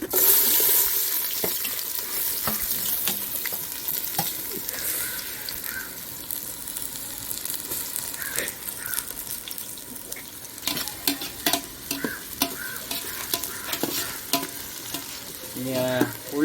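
Three small-chopped onions frying in hot sunflower oil for chicken pulao, a steady sizzle with stirring scrapes and occasional clinks, plus a brief splash of running water near the end; no talking.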